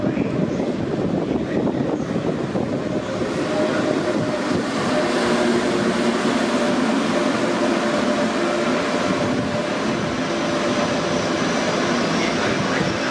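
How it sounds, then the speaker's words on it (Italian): Trenitalia train 8809 from Ancona to Lecce pulling in at platform 1 of an Italian station: a loud, continuous rumbling roar with a low hum that holds steady throughout, dense and close. "8809 di Trenitalia, proveniente da Ancona e diretto a Lecce, delle ore 19:31, è in arrivo al binario 1"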